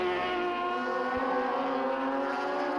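Racing motorcycles at an endurance race at Mallory Park scream past in a sustained, loud high-revving engine whine that holds steady throughout, with no talk over it.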